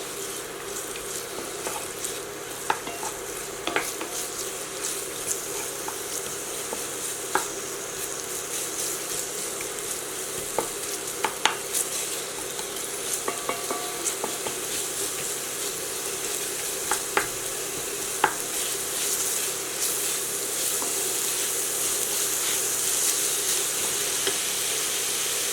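Portuguese-style chicken gizzards sweating in a pan, a continuous close sizzle with scattered crackles and small pops, steady throughout with no voices.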